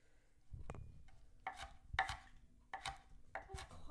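A knife chops onions on a board for a low-carb bison chili: a handful of sharp, close blade strikes in uneven bursts, each with a brief clack, over a faint background hum.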